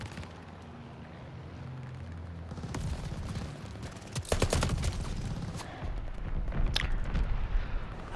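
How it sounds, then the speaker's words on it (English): A friendly bombing run in Call of Duty hits with a cluster of deep explosions and rapid gunfire bursts midway, after a low rumbling battlefield background, with the impacts continuing in scattered blasts. "Friendly bombing run inbound."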